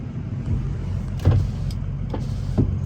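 Power windows on a 2005 Ford Excursion Eddie Bauer with a 6.0L Powerstroke diesel whir briefly inside the cabin, two short motor runs with a thunk at the end of each over a steady idle hum.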